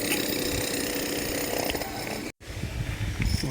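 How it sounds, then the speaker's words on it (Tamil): Concrete being drilled to take metal rods during repair work at the Muzhiyankulam pond, a loud, steady grinding roar that breaks off briefly and then resumes, close by. "இந்த கம்பி வைக்கிறதுக்காக துளை போடுறாங்க"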